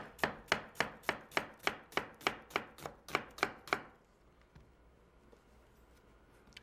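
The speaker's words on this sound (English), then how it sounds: "We're going to cut a little bit of onion." Knife chopping onion on a board for a shrimp dish, about a dozen crisp, evenly spaced chops close by, followed by a few seconds of near quiet.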